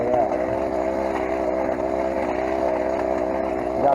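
A Stihl brush cutter engine runs at a steady high idle, a continuous buzzing two-stroke drone that stays even and fairly close for the whole stretch without pauses.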